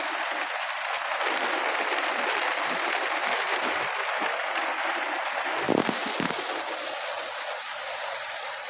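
Rain drums steadily on the roof of a motorhome parked in Málaga, a dense, even hiss of drops from start to finish. A few louder thuds come near the middle. Nobody speaks.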